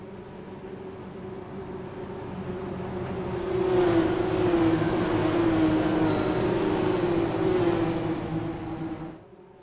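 IndyCar race cars in a racing video game accelerate at the green flag at Las Vegas Motor Speedway, a steady engine drone that rises in pitch and grows louder mid-way, then cuts off abruptly.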